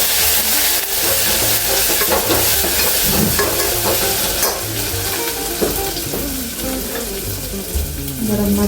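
Ginger garlic paste frying in hot oil, a loud, steady sizzle with crackling spatter and occasional stirring scrapes running throughout, close up.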